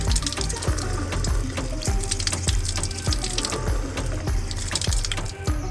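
Steady gushing water pours continuously from a hand-operated street water pump, with rhythmic metallic clanks from the handle repeating throughout.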